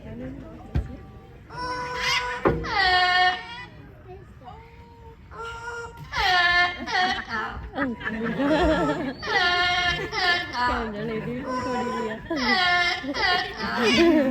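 A bird hatched and raised in Canada whistles a short stretch of the Canadian national anthem, clear repeated tonal phrases in bursts, fairly close and moderately loud.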